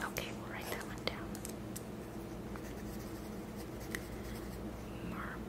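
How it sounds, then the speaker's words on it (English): A pencil scratches softly on paper in short close strokes, faint and intimate, with quiet whispery sounds around it. "Okay, we'll write that one down."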